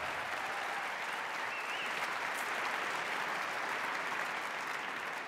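Sustained round of audience applause at a Martin Luther King Jr. Day event in Montgomery County, a continuous wash of many hands clapping, fairly distant and even in level from start to finish.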